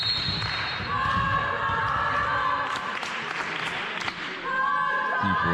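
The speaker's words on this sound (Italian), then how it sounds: "Tifo si fa sentire" Spectators at a women's Serie C volleyball match in a gym cheer and clap steadily for the team, a sustained, fairly loud crowd roar with thuds of the ball and a brief dip near the end.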